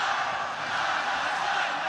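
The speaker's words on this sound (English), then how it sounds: "the crowd is starting to chant" Crowd at a boxing fight chanting and roaring, a dense, steady wall of voices that stays loud and continuous throughout.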